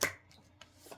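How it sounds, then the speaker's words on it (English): Tarot cards being shuffled by hand, a short crisp riffle burst up front followed by a few faint soft card flicks and taps, quiet and close, with no voices. "I'm going to go ahead and shuffle this card."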